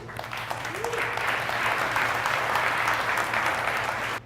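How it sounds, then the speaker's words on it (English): Warm, continuous applause from a conference audience in Guadalajara greets Bryan on stage, a dense even wash of clapping with a faint whoop near the start, cutting off abruptly at the end. "A round of applause to Bryan for being here."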